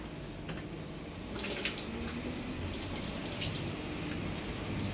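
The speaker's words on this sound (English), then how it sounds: "And we'll fill this up with water." Water from a small submersible pump pours steadily into a container, a continuous splashing, faucet-like flow that stays close and even in level throughout, with no talking.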